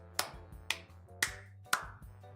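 Five crisp, evenly spaced hand claps, close and loud, each with a short ringing decay, with no talk over them.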